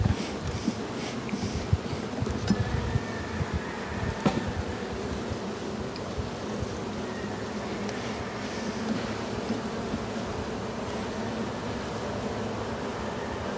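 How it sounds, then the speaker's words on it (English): A low, continuous buzz of many honeybees in an opened hive during a spring inspection fills the space, steady and close, with occasional brief knocks and rustles. "this one has a few less bees in it."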